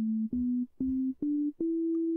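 An OP·A FM synth module, played from a MIDI keyboard on its basic sine-wave preset, sounds five pure, steady tones one after another. Each is slightly higher than the last and sustained, with short gaps and a longer final note, clean and alone.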